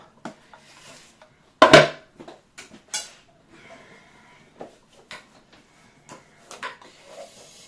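Dishes and cutlery clatter in scattered bursts while washing up, with one loud clang near the start and softer clinks and knocks following, fairly close.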